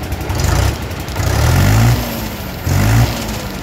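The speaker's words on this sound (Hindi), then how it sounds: "देख सकते हैं भाइयों कितना गजब स्टार्टिंग है ट्रैक्टर का" A 2018 Mahindra 575 DI tractor with a self-starter, close and loud, fires up and revs in short bursts, its diesel engine rising and falling in pitch between the surges.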